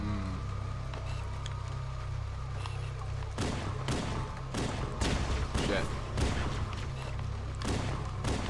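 Gunfire from a gun in Halo: Combat Evolved breaks out after a steady game drone, with repeated sharp shots in quick bursts, loud and close, over continuous background sound and a talking voice.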